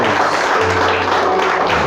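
A church congregation applauds during a worship service, a dense continuous wash of clapping that holds steady and loud throughout without breaks.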